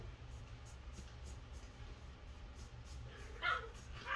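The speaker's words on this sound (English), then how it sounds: "That's our dogs. That's the doggies playing." Dogs play indoors with soft whimpers and a brief yip, faint and distant under a low steady room hum, with no talking.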